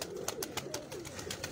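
A pet pigeon of a pearl-marked type gives a soft, continuous cooing, faint and close, with several sharp clicks or taps repeating at a steady pace across the sound.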